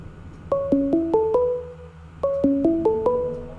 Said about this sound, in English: Don't know if you can hear that or not, but that's my phone going off.